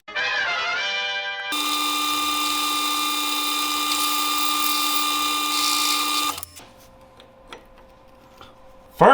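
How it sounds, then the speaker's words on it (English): A metal lathe turns a shoulder onto a steel rod, giving a loud steady tonal whine that holds for several seconds and then drops to a quieter hum with a few light clicks. "I need to turn a shoulder down onto here that will fit into these holes"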